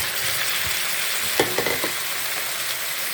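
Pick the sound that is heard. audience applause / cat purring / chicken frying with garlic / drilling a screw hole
chicken frying with garlic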